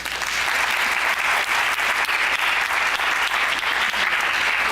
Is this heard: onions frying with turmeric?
no